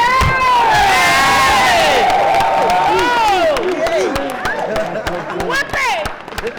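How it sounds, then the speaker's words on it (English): At a community gathering, a large crowd cheers loudly, with whoops and shouts over scattered clapping that fades gradually over several seconds. "Give yourselves a round of applause."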